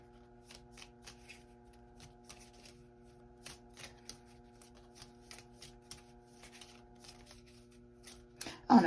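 Tarot cards are shuffled by hand in a quiet room, a run of soft riffling flicks and taps repeating irregularly, ending with a louder rustle.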